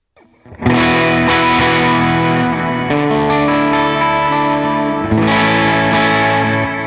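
An electric guitar played through a Line 6 Helix patch rings out in full sustained chords, strummed once and restruck twice, loud and close with no talking.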